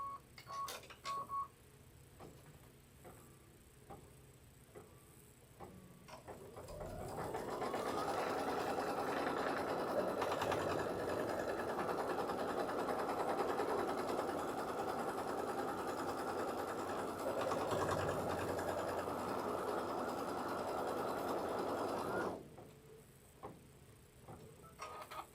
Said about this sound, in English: Get that in my machine. And then we're going to run our tacking stitch to secure that border.